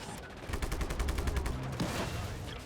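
Rapid automatic gunfire from the video game Just Cause 3 rattles in a steady burst of evenly spaced shots, then trails off into a mixed rumble of game noise, at moderate loudness.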